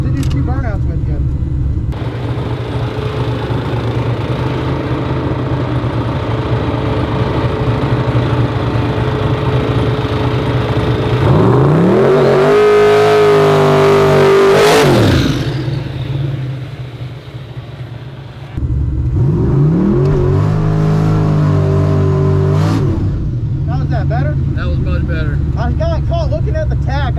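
Car engine roaring at high revs during a burnout, with two long sustained rev-ups rising and holding over a steady idle rumble, loud and close, with people talking underneath.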